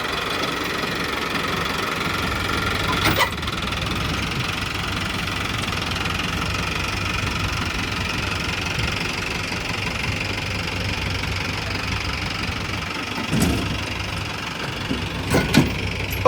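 A tractor engine idles nearby with a steady low rumble and rhythmic knocking, with a few brief clanks.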